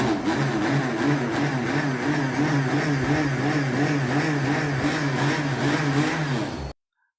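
A mixer grinder whips cream with cold water to make butter. Its loud, steady motor whine wavers in a regular churning rhythm for about seven seconds, then cuts off abruptly into silence.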